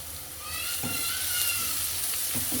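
Onions and curry leaves frying in a pan for a Tamil egg curry, a steady close sizzle with soft stirring scrapes running throughout, no voices.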